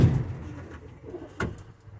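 Birmingham roller pigeons coo inside a loft, a low soft murmur close by with a brief sharper sound partway through, no talk.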